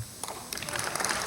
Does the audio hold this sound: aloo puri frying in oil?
no